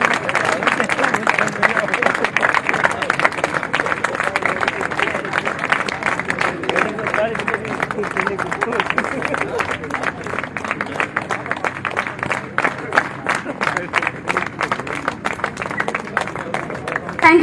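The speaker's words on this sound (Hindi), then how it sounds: "तालियां" A seated audience at a company programme applauds a guest called to the stage, with dense sustained clapping running throughout under crowd chatter and a presenter's voice.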